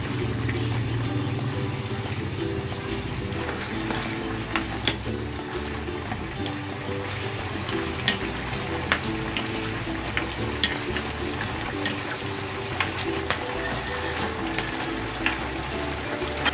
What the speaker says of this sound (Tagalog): Ilalagay ko na itong kakang gata.